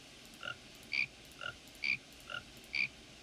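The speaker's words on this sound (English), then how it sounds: "and I can still tap on my frogs." Frog croaks looped as an ambient effect, six short evenly spaced calls alternating softer and louder over a faint steady background hiss.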